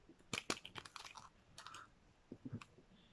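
Light metallic crinkling and rustling in irregular bursts, as a very thin metal Christmas decoration is handled close by, with brief pauses between.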